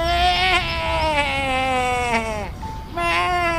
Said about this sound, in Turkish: Bu koyunları Remzi'nin nereye götürdüğünü gördün mü?